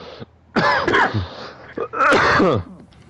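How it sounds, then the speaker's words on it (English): A man on a podcast clears his throat and coughs in a few rough bursts, close and loud, with short pauses between each fit. "We're all coughing today."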